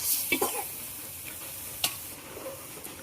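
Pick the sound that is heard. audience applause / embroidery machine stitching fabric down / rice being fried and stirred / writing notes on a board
rice being fried and stirred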